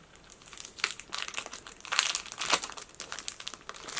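A Dragon Ball Heroes card pack wrapper being torn open: close, crisp plastic crinkling in irregular bursts, with louder crackles in the middle.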